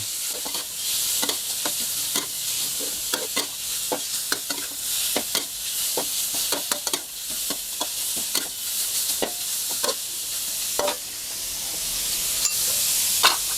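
Pork belly stir-frying over medium heat in a pan for a shrimp-paste and stink bean dish, a steady sizzle with a busy stream of clicks and scrapes from stirring, close and alone with no talk.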